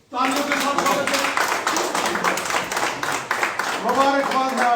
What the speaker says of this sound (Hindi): जोरदार तालियों के साथ, तालियों के साथ स्वागत है।